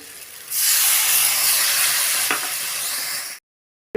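A pour of water into a pan of frying potato curry sets off a loud burst of hissing steam and sizzle that holds steadily for about three seconds, then cuts off abruptly.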